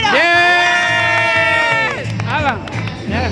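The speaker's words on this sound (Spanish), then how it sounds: "¡Un aplauso al cocinero!" Crowd at a paella contest cheering and applauding the cook, a loud burst of voices with a long shouted cheer, then clapping and lively chatter continuing.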